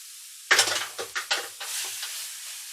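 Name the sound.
sauerkraut added to hot pan, sizzling and stirred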